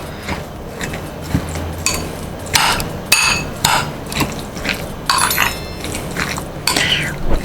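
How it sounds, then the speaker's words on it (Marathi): Cabbage salad with salt being stirred in a bowl: a run of sharp clinks and scrapes of a spoon against the dish, repeating in irregular bursts close by, with no talking. "आता ही आधी आपण ढवळून घेऊया"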